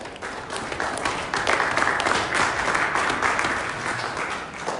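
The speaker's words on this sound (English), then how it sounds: "Let's give yourself applause." An audience applauds together in a full, steady burst of clapping that swells in the middle and holds without talk over it.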